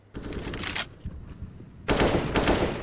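MP9 submachine gun fire in the video game CS:GO: two sustained rapid-fire bursts, loud and close, separated by a short gap with scattered single shots.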